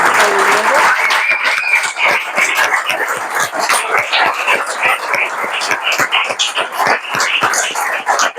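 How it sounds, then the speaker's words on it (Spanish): Audience applause at an evening cultural event honoring a local neighbor, loud sustained clapping from a sizable crowd with dense rapid claps throughout, no talk over it. "Quiero pedir un aplauso para Mariano Mangas."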